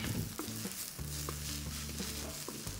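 Mint, onion and coriander sautéing in a hot pan, a continuous sizzle with a few scraping stirs and soft clacks of a spoon, close and moderately loud.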